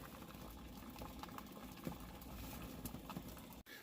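Water at a rolling boil inside a Stoke Voltaics 500 watt electric kettle, a steady close bubbling roar that runs unbroken with small pops, ending in a brief drop near the close.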